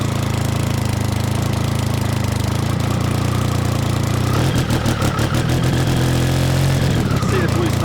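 An engine idles with a steady low chugging, then revs up as the throttle is opened, pulsing harder and louder for a few seconds before settling back.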